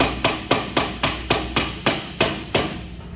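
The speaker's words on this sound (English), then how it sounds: "Rubber hammer. We got one of those." About a dozen evenly spaced rubber hammer strikes on metal on the rolling chassis of a Holden FB Gasser, sharp and close, ringing briefly after each blow in a steady rhythm.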